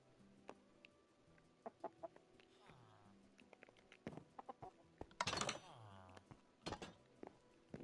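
Chickens in the Minecraft video game cluck repeatedly in short, scattered calls over a quiet backdrop of soft game tones, with a brief flurry of louder squawks near the end.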